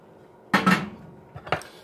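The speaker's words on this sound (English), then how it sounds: "And we're going to stir this around really good." Mountain House mac and cheese being stirred in a pot of freshly boiled water, with two close metallic scrapes and clinks, a pause, then another short pair of clanks.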